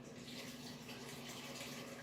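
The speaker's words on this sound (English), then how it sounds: "I'm just gonna add the hot water that I have" Hot water pours steadily into an Instant Pot, a soft continuous splashing stream heard close and quiet, with no voices.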